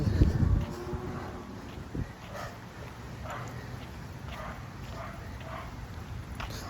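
A dog barks in short, repeated outdoor yips at moderate distance, a louder burst at the start followed by several fainter barks spaced across the clip over steady wind-like background noise.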